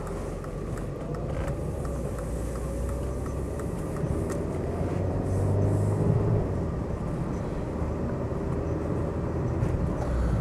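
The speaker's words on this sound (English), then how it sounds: "Nice smooth gear changes on this." Inside a Mercedes E220 coupe with automatic gearbox pulling away, a steady low engine drone rises gradually and then settles as smooth gear changes pass, heard continuously from the cabin without talk.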